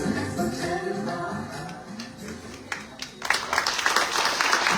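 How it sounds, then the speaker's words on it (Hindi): Loud applause for children at a Christmas church service breaks out partway through, following a sung melody with voices; the clapping comes in abruptly and stays dense and bright to the end. "जोरदार तालियां है बच्चों के लिए।"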